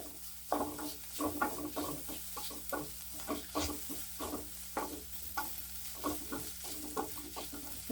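Onions sizzle in a hot pan, a soft steady frying hiss broken by repeated scraping and stirring strokes.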